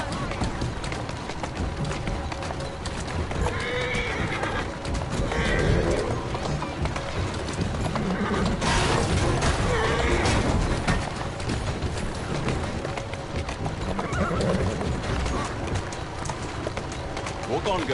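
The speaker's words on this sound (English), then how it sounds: "Who's a good horse? You are." Horse hooves and neighing from the Assassin's Creed Syndicate video game, heard under steady game noise with people talking over it.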